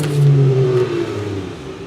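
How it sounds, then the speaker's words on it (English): A small motorcycle passes by outside, its engine note swelling and then fading over a couple of seconds, fairly loud and heard alone. "A little motorcycle or something ran by."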